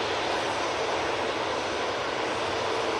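EasyJet airliner taking off from Manchester Airport for Enfidha, a dense, unbroken engine roar at even loudness across the whole stretch, heard alone with no talk.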